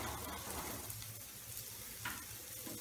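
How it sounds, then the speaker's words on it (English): Steady, close sizzling as egg cooks in a pan over medium-high flame for a lentil and egg stir fry, with soft stirring scrapes over a continuous frying hiss. "The egg is getting scrambled slowly."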